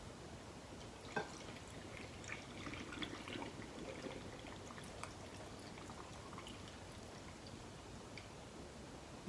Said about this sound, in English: We're going to fill this jar with filtered water.